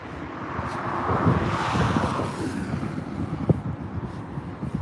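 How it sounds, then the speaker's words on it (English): Steady rumbling wind buffets the microphone under a bridge throughout, a low continuous roar that swells slightly in the middle. "Sorry if you can hear the wind. It gets very windy under this bridge."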